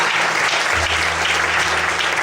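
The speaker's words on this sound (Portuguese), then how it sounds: "Você pode aplaudir ao Senhor nesta noite." Congregation applauding during an evening church service, a steady dense clapping that fills the space continuously with no pauses.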